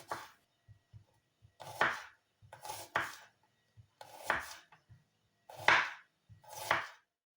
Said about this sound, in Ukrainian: Для цього нарізаю її тоненькими скипками.